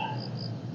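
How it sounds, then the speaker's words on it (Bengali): Crickets chirp in a continuous high trill at night, fairly faint and steady, with a low background hum. "ঝিঝি পোকার ডাক ডাক।"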